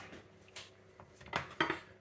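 A cooking pot being handled in a home kitchen, giving a few quiet metallic clanks and scrapes at irregular moments, faint and close, with nothing else heard.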